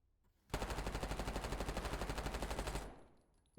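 Automatic fire from the C9 on a Black Ops 6 firing range, one continuous rapid burst of about two and a half seconds with an even rhythm of shots, loud and close, then a short fading tail.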